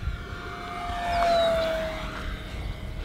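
An E-Flite RC warbird model airplane, a P-51 Mustang or F4U Corsair, throttles up, its motor whine rising in pitch and swelling in loudness as it passes, then fading away against steady outdoor background noise.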